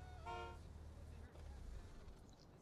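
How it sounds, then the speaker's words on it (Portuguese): A car horn honks briefly in Saints Row: The Third, a short harmonic toot near the start over steady engine and traffic hum from the game. "o F a gente dá uma buzinadinha"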